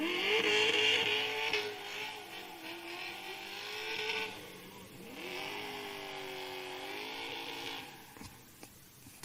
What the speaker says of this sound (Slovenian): Takole fanta sta se grela svoje gume.